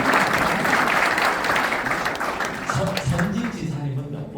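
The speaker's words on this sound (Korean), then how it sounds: "박수 한번 쳐주시고." Audience applause during a KAIST professor's lecture, a dense wash of clapping that fades toward the end as a voice comes in underneath.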